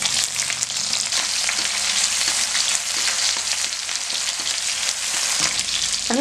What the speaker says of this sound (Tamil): வெங்காயம் இந்த அளவுக்கு நல்லா வதங்கிடுச்சு.